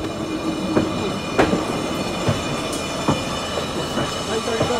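The Lookout Mountain Incline Railroad car, in operation since the 1890s, passes by with rumbling rail noise, wheel squeals and clicking track joints, fairly close and continuous.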